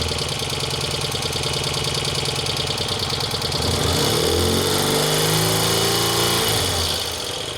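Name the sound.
motorcycle engine held at 2000 rpm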